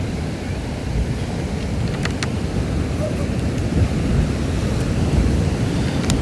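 Ocean waves crash at La Jolla Cove in San Diego, California, making a steady, loud, broadband surf roar with some wind buffeting the microphone. The roar stays unbroken throughout.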